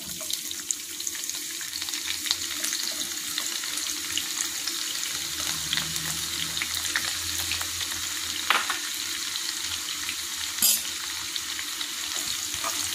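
Onion frying in a pan for a Karnataka girmit recipe, a steady close sizzle with occasional stirring clinks and a brief knock, fairly quiet and continuous throughout.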